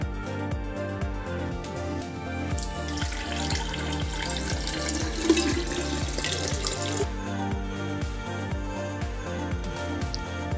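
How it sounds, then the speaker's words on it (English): Water poured into a glass jar already holding honey for a kids' density experiment; a continuous splashing, trickling stream runs nearby for about ten seconds, with no voices. "Next, we're gonna pour in the water."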